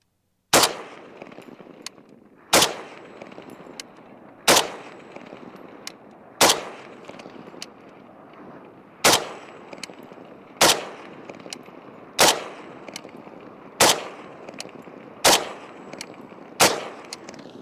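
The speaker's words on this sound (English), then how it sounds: "All right, shoot a couple more rounds here." A Russian Dragunov rifle is fired about a dozen times outdoors, each loud sharp report followed by a brief echo, spaced roughly every one to two seconds and quickening toward the end.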